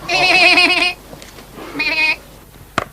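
A goat gives two loud, quavering bleats close to the microphone, a longer call followed by a shorter one after a brief pause, with a small knock at the end.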